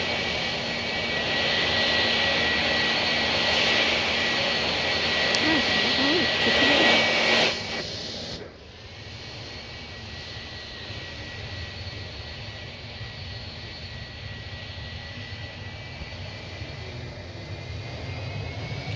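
Aircraft engine roaring during takeoff in the Roblox flight game Project Flight, a loud steady drone that cuts off sharply partway through and drops to a quieter, lower engine hum.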